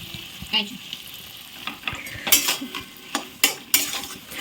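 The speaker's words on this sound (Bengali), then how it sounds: "এই যে পনিরটা দিয়ে দিলাম, দিয়ে নাড়াচাড়া করে জল দেবো।" Paneer being stirred in spice masala in a pan, with a spoon scraping and knocking against the metal over a soft sizzle, and several sharper clatters near the end.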